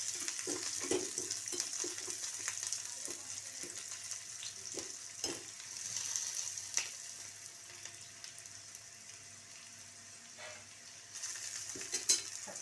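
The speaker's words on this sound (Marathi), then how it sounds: "टलपरे सकट लसूण टाकायचं म्हणजे त्याचा स्वाद चांगला लागतो चांगलं परतून घेऊया" Crushed garlic cloves with their skins on sautéing in a pan for a dried-fish dish, a faint steady sizzle with scattered stirring scrapes and utensil clinks, quiet and with no talk.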